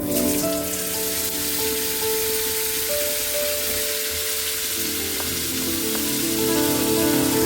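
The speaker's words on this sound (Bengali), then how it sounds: "আর ফুলকপিগুলো ভেজে নেবো, হালকা ভাপাবেন, বেশি ভাপালে গলে যাবে।" Cauliflower florets fry gently in hot oil, a soft, even sizzle that runs continuously at moderate level, with a faint steady hum in the background and no voices.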